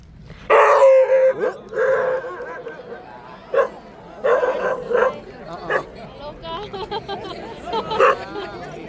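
A terrier barks in short yips and whimpers at an evening outdoor gathering with Buddhist monks on a peace walk in Good Hope, Georgia, the bursts close and loud amid murmuring crowd chatter.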